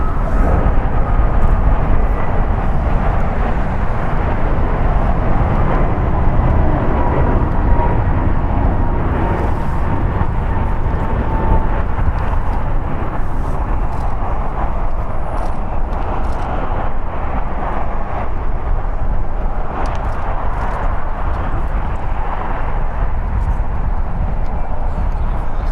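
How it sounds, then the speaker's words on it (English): A one-year-old American Airlines Airbus A321neo departing LAX makes a continuous engine rumble and rushing roar that holds at an even level throughout. "Departing here is American Airlines Flight 265 going to LIH. It's an Airbus A321neo,"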